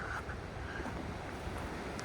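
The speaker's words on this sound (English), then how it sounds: "Pretty windy tonight, so I'm camping in the trees up here," Wind from the west rushing steadily at night through trees just below a ridge on the Heysen Trail, a broad low roar with faint gusting against the microphone and no voices.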